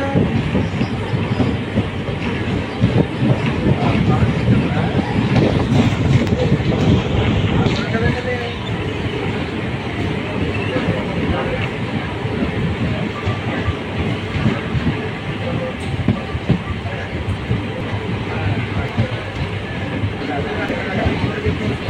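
A train pulls out of Palakollu station from the second platform, its steady rumble and clickety-clack of wheels on rails filling the scene loudly and continuously, with some voices over it.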